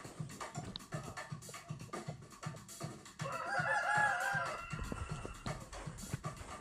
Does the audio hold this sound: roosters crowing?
yes